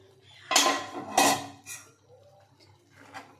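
Metal lid clattering down onto a pot of dalia khichdi cooking with ghee, two close, clear clanks followed by a fainter clink and light kitchen rattles.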